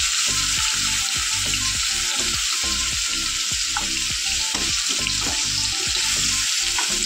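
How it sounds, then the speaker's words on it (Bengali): Bora fritters fry in hot oil, a steady close sizzle running throughout with repeated rhythmic scraping and stirring strokes against the pan. "বড়াগুলো দেখো ভাজা হয়ে গেছে"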